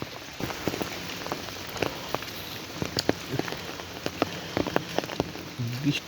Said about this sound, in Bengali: টিনের ঘরগুলোর মধ্যে টুপটুপ পানির আওয়াজ।